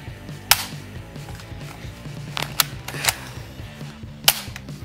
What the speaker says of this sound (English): Now I want to show you the grenade launcher.